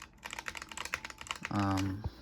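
Quick clattering keystrokes on a Razer Huntsman keyboard tap out a rapid, uneven rhythm up close, followed by a short tonal hum near the end.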